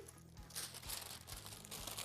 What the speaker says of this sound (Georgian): გამოსაცხობი ქაღალდი.